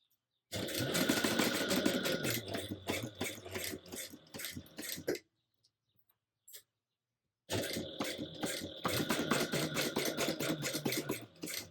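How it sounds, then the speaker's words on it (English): A sewing machine stitches a tote bag in rapid rhythmic bursts, running steadily for about five seconds, pausing in near silence, then resuming close and loud for the final stretch. "I'm going to just hold everything in place and sew as straight as I can"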